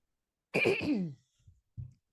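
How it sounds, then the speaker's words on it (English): A woman clears her throat once, a short rough rasp up close in a quiet room, followed by a couple of soft small noises. "I just had to clear my throat."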